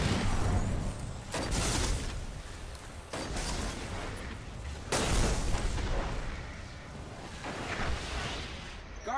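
Hand cannon shots in the Destiny video game crack out as a few heavy, booming reports spaced a couple of seconds apart over a busy background of game sound.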